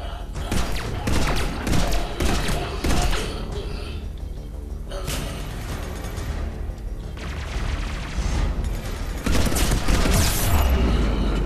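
Grenade blasts and gunfire in the video game Mass Effect 3 come as dense, loud thuds and rapid bursts of shots, continuous combat noise with brief lulls, under occasional talk.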